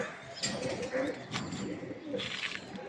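Orange Bahama pigeons making soft, low cooing calls close by, short throaty bursts with light chirps and faint background voices.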